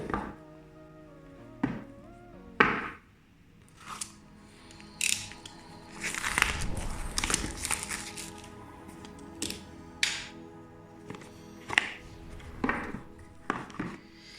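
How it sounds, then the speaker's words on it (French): Packaging for AUKEY EP-T32 wireless sport earbuds is handled and opened, with crinkling, tapping and snapping clicks in irregular bursts, close and fairly quiet, with a denser rustling stretch midway and no talking. "Allez, c'est parti, on déballe."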